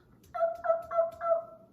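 A wild turkey gobbles once, a quick rattling burst of four warbling notes, clear and fairly close against a quiet background.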